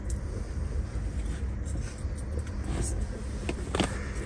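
Car driving along a road, a steady low rumble of engine and tyre noise with wind buffeting, with brief scattered knocks and rustles inside the cabin.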